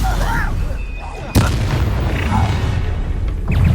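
A Stupefy spell is cast in the Hogwarts Legacy video game on PS4: one sharp, loud magical blast cuts through ongoing game ambience and faint voices, followed by a rumbling tail.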